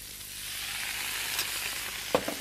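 Liver frying in a hot pan, a steady, soft sizzle throughout with a brief clink or stir near the end, no talking.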